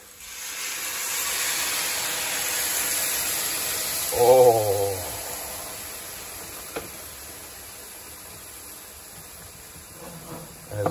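Steady broadband hiss of 250 ml of vegetable stock sizzling in a hot pan, with a brief voiced exclamation midway and a few small clicks near the end.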